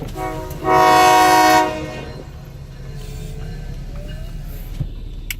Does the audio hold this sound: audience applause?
no